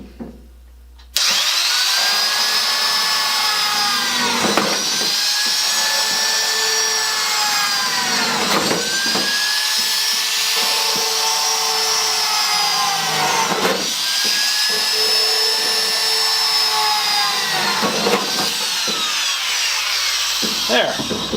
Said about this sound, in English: So I get out the Black & Decker Shorty drill.